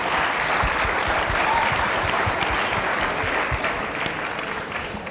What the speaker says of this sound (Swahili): Mpigeni makofi jamani